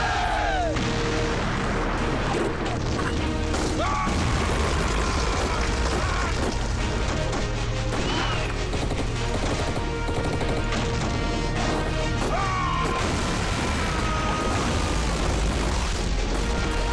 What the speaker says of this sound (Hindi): आर्टिलरी फायर शुरू करो।